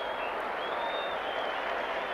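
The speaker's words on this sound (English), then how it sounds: "And getting a good round of applause." Rugby league stadium crowd applauding an injured player leaving the field during a Warrington versus Wigan match, a dense, even wash of clapping from a large crowd, steady throughout with a faint murmur underneath.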